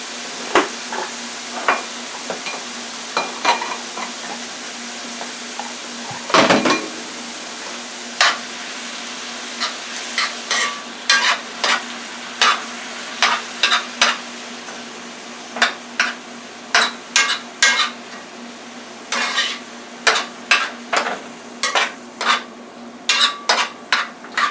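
Ground beef with garlic and peppers frying in a pan gives a steady sizzle, broken throughout by sharp clicks and scrapes of a utensil stirring against the pan, growing more frequent toward the end. No one talks.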